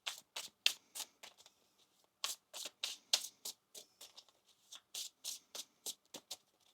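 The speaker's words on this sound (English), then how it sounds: "One more shuffle now." Tarot cards are shuffled by hand in quick, crisp riffling bursts, about two dozen close rustling snaps in an uneven rhythm with short pauses between runs, up close in a quiet room.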